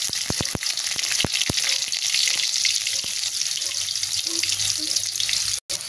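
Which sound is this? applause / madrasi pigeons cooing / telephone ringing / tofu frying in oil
tofu frying in oil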